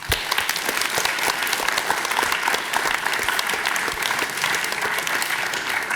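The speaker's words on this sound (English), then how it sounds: "Let's give another round of applause" An audience at a December oath of office ceremony claps after a lion dance performance, a dense, steady wash of many hands at moderate loudness with crisp individual claps standing out, lasting the whole stretch without talk.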